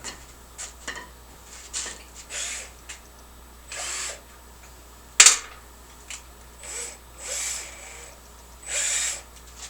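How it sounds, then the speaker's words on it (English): Short bursts of a power drill with a 1/4 inch bit whirring on and off through wood, with a sharp clack partway through and faint knocks between runs. "And you're going to drill through these ends here."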